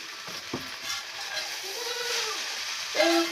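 Chow mein being gently reheated and stirred in a pan, with a soft steady sizzle and occasional scraping stirs at close range, no talk.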